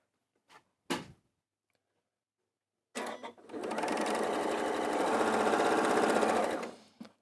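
Sewing machine stitching a quilting seam, running in one steady, loud burst after a couple of brief clicks and handling noises, rhythmic needle chatter throughout with no talking.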